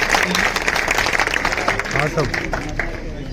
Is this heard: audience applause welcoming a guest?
yes